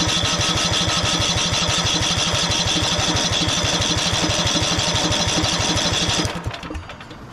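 A 1991 Craftsman LT4000 lawn tractor from a barn find runs with a loud, fast, even putter close by, then cuts out and fades near the end.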